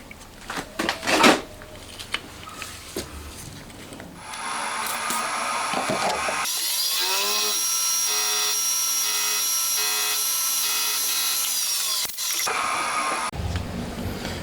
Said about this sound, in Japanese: 反対側を削って所定の寸法にしていきます